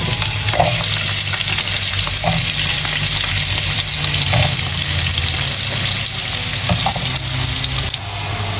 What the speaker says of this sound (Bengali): তার জন্য আমি তেলের মধ্যে আলুগুলো দিয়ে দিলাম